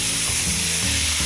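Loud, close sizzling and crackling of pork frying in a hot pan, a dense continuous hiss with no talking.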